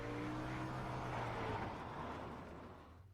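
A dirt-track race car in the iRacing simulator, engine droning steadily under throttle with a buzzing tone, then easing off and fading toward the end.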